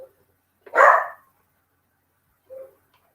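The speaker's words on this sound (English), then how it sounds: "Sorry about my dog, everybody." A dog gives one sharp, loud bark followed a moment later by a softer, shorter bark, indoors and close, with silence between.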